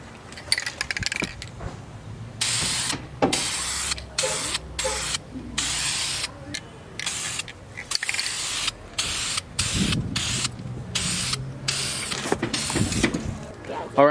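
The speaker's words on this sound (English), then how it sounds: "This is black primer, so the gold doesn't look that yellowish. So let me start spraying real quick." Black primer is sprayed from an aerosol can onto gold car wheels of a Subaru WRX wagon, loud close hissing bursts starting and stopping repeatedly, with light clinks and handling noises between sprays.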